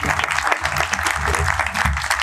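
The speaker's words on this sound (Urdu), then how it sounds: "ہمارے ممبرز کے لیے ایک بار زوردار تالیاں" Audience applause for children and members at a fish festival gathering. A steady, dense burst of clapping lasts a couple of seconds at an even level.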